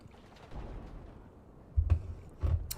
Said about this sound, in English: Damn, grenade spamming.